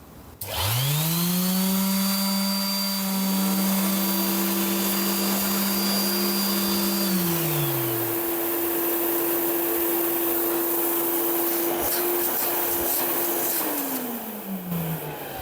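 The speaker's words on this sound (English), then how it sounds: "as soon as I turn the sander on, the Shopvac will turn on." A shop vac starts and runs loud and close with a steady whine alongside an electric sander, the two motor tones holding steady together before winding down near the end.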